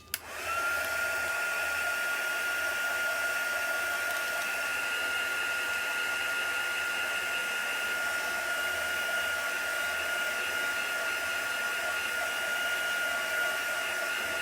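A hair dryer blows steadily on freshly applied chalk paste, switching on abruptly and then holding a loud, constant whine and rush of air to the end.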